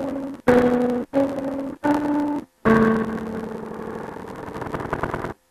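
Piano-like notes generated from guitar playing by a neural network pedal play alone: three short separate tones with gaps between them, then a longer held chord that slowly fades.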